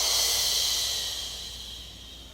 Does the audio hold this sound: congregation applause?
no